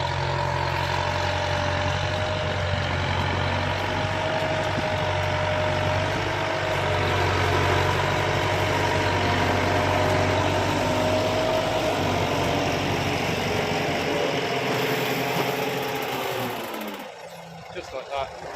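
A Kubota tractor engine runs steadily for a long stretch while planting sugar cane in a Thai field, a continuous loud low drone with some rumble that cuts off near the end, with someone talking over it.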